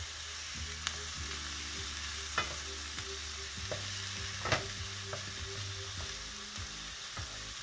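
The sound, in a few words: stirring and frying food in a pan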